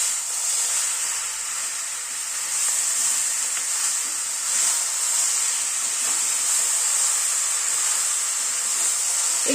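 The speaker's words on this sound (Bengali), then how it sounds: "এবার টমেটোটা যেটা পেস্ট করে রেখেছি সেটা দিয়ে দিচ্ছি।" Tomato paste sizzling and frying with vegetables in a pan for a spring onion chorchori, a steady bright hiss running throughout with occasional stirring scrapes, close and fairly loud, no voices.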